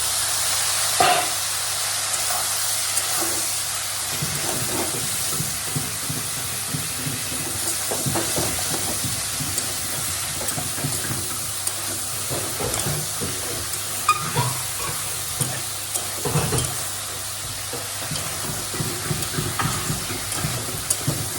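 Chopped taro stolons hitting hot oil with fried garlic give a steady, close sizzle and hiss, with scattered crackles and stirring clatter throughout.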